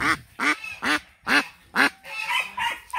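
Adult female domestic duck quacking in a loud, close series of about six harsh, evenly spaced calls, the last few quieter and overlapping with faint background tones.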